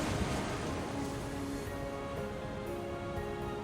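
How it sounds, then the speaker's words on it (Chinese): The four-tiered Dudhsagar Falls in Goa, India, fed by the Mandovi River in the Western Ghats, pours as a dense, constant rushing roar that holds steady throughout. "果阿的一个壮丽的瀑布 Dadsagar 形成于西高指山脉的山峰上。"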